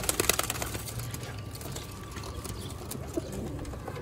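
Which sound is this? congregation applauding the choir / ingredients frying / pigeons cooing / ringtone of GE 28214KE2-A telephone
pigeons cooing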